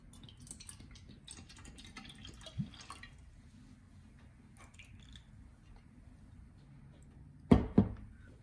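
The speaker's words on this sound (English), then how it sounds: "Let's pour some water in." Bottled spring water poured from a recycled glass bottle, with soft trickling and dripping at first, a quiet stretch, then two sharp close splashes near the end.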